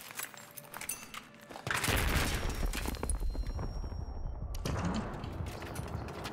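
Gunfire in a competitive first-person shooter video game, a dense sustained burst of shots that stops briefly and then resumes, loud and close.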